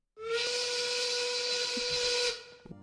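A 1930s-style steam work whistle blasts a single steady, shrill tone for about two seconds, then cuts off, leaving faint clatter.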